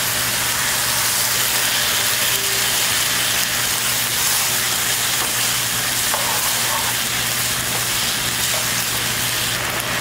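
Rice noodles stir-fry with sauce in a hot pan for homestyle Taiwanese fried rice noodles, a loud, steady sizzle filling the whole clip with no talking.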